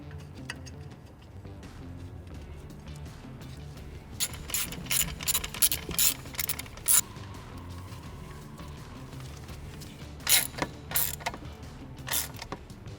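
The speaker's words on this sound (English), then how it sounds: "now we'll install the 2 bolts on the back of the reservoir that hold it in." A hand ratchet tightens the two rear bolts holding the power steering reservoir on a Ford F-150. Two separate runs of quick, close mechanical clicking come over a quiet background.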